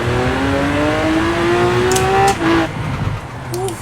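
Lamborghini Aventador tuned to 1200 BHP in Forza Horizon 4, its engine note climbing steadily through a loud, sustained rev before a brief drop and short tire squeals, all close and continuous without talk.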